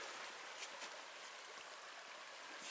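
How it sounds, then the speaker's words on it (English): Water rushes over a shallow trail stream crossing in the forest, a steady broad hiss and burble that stays even and unbroken throughout. "Well, this is going to be our stream crossing."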